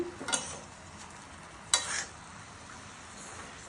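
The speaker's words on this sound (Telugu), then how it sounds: "ఇంకొక ఫైవ్ మినిట్స్ బాగా ఫ్రై చేసుకున్నాము గోంగూరను కూడా ఈ పచ్చిమిరపకాయలతో పాటు" Gongura leaves frying with green chillies in a pan, with a low sizzle and two short scraping stirs of a spoon against the pan, close and fairly quiet.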